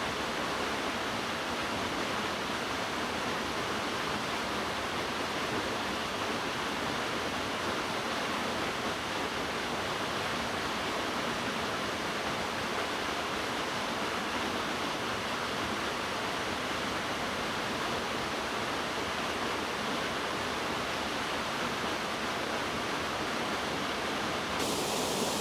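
A waterfall roars in a steady, unbroken wash of rushing water, loud and constant throughout with no voices or other sounds.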